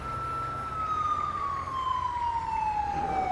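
An ambulance siren in the GTA 5 video game wails in a single long, steady tone that slowly falls in pitch, loud and continuous over a low engine rumble.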